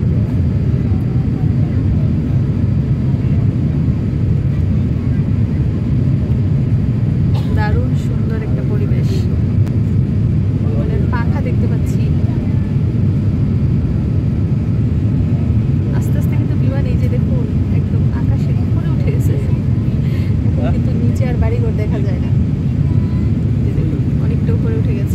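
Steady broadband engine roar fills an airliner cabin at cruise altitude on a Dhaka to Dammam flight, a constant low drone throughout with occasional faint voices and small clicks above it.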